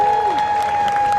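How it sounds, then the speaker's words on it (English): Crowd cheers and applauds for Tom Chilton at the British Touring Car Championship podium at Snetterton, a steady, loud roar of applause with a sustained whistle tone running through it. "Gets a lovely cheer from the crowd"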